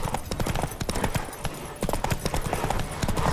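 Rapid clip-clopping hooves of a horse in a video game, steady and fairly close, with a faint whinny-like sound mixed in.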